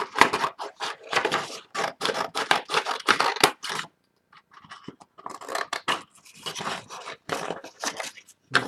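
Scissors cut through paper for a handmade time capsule folio in a long run of rapid, rhythmic snips, close and clear, with a brief pause partway before the cutting resumes.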